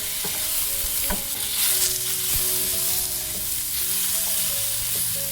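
Tomatoes fry in a pan over a medium flame with a continuous close sizzle, broken by frequent scrapes and clinks of a spatula stirring them, with no voices.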